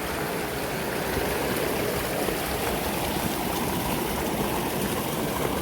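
Steady rushing of flowing stream water, close and continuous, a dense even wash of sound with no pauses.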